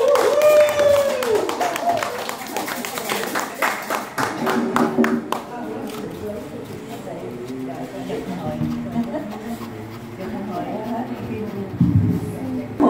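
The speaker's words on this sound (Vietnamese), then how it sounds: "xin một tràng pháo tay nữa" Audience applause for a singer after a Vietnamese duet performance, a burst of clapping at the start that thins into scattered claps with voices and crowd noise continuing underneath.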